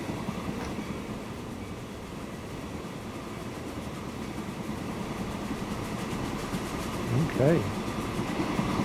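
Trains running on rails in the Transport Fever 2 game: a continuous low rumble of rolling stock, moderately loud, with a short rising horn-like tone near the end, and someone speaking briefly over it.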